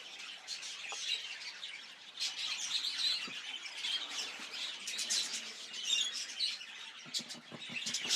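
Cinnamon blue budgies in a breeding stud chirp and squawk continuously, a dense, busy chatter of many birds at moderate volume, with sharper close calls standing out near the end.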